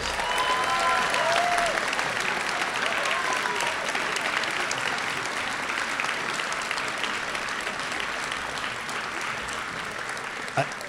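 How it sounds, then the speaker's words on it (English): Sustained, loud applause from an audience at an upper school senior class night in 2018, steady dense clapping honoring the graduating class that carries on for the full stretch. "would you give them a round of applause?"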